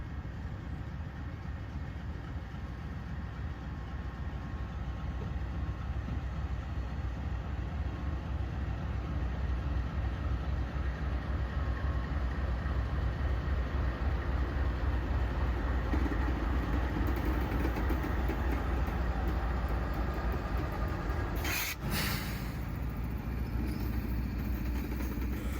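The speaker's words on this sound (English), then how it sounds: "The next train is an eastbound auto rack with an old scheme AC 44CW in the lead" An eastbound auto rack freight train, led by an old-scheme AC44CW locomotive, rumbles past in a steady, loud roar of rolling cars and engine drone, with a brief sharp burst near the end.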